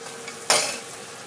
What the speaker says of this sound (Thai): ผัดไปเรื่อยๆ นะคะ อย่า อย่า อย่าปล่อยกระทะนะคะ